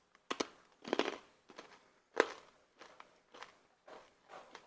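Crisp homemade buttery Christmas candy crunches during a taste test, with a series of close, sharp bites and chews in irregular bursts, faint overall and with no talking.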